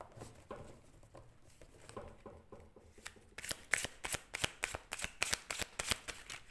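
Tarot cards being shuffled, a soft papery riffle that turns into a quick run of crisp slapping flicks as the cards are drawn, close and clear with no talk over it.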